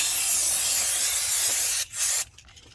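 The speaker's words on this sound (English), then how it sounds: "Spray the rotor with brake cleaner." An aerosol can of brake cleaner sprays onto a brake rotor of a 2009 Peugeot 207cc in a long continuous hiss, pauses briefly, then gives a short final burst before stopping.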